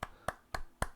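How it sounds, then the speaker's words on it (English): Four sharp, evenly spaced hand claps, quiet and close, from a single pair of hands rather than a crowd, with no talk. "get some applause"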